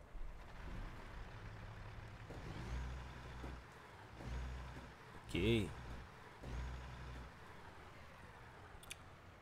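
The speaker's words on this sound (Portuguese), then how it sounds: "Vamos ligar o caminhão." In American Truck Simulator, a truck engine starts and settles into a low, pulsing rumble. A sharp air hiss follows midway, and a voice speaks briefly.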